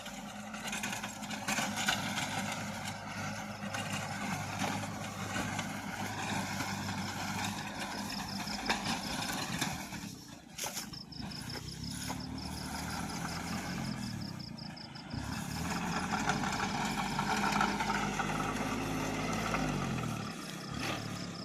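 A B27 tractor engine runs steadily among sugarcane rows, its close, continuous rumble shifting in pitch a few times over the long stretch, with no voices.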